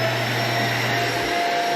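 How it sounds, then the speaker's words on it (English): A household vacuum cleaner runs steadily and loudly right after being plugged into a newly replaced electrical outlet, its motor holding one constant whine with no pauses. "Plug the vacuum back in."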